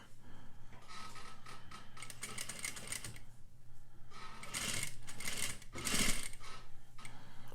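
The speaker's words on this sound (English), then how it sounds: "I want to make sure that my stitch line still sews straight up to this spot here." A sewing machine stitching a railroad zipper, its rapid mechanical needle clatter running in a few sustained bursts with brief pauses, close and steady.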